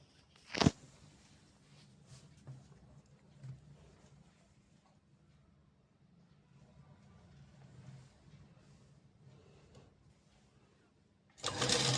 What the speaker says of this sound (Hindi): अब इसके ऊपर बॉटम रखते हुए हम बॉटम को स्टिच करते हुए देखेंगे